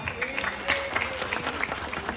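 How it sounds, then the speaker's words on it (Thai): Crowd applause at a Thai buffalo show contest in Chiang Mai, a fairly soft, steady patter of clapping with a faint voice or tone running beneath it. "ขอเสียงปรบมือเป็นการขอบคุณ"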